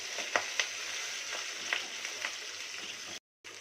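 Pieces of fish fry in a pan for an Odia fish-head ghanta recipe, giving a constant close sizzle with scattered pops and crackles, then a brief gap near the end.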